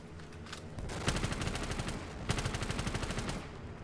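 Rapid gunfire rattles through a custom zombies map in Black Ops 3, two long dense bursts of loud repeated shots, steady and close, with no voices over them.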